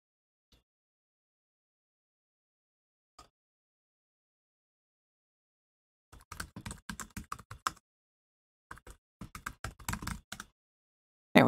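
Commands typed on a computer keyboard: a few isolated taps, then two quick bursts of rapid, close keystrokes separated by a short pause, with silence between.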